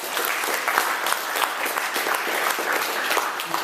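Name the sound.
audience applause for event organizer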